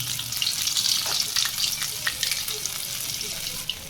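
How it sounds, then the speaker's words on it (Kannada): Urad dal vada batter, shaped with a hole in the middle, dropped by hand into hot oil, giving a loud, continuous sizzle and crackle of frying close up, with no talking. "ಈ ಥರ ತೂತ ಮಾಡಿ ಒಂಚೂರು ಬಿಡೋಣ ಹೆಂಗೆ ಎಣ್ಣೆಗೆ"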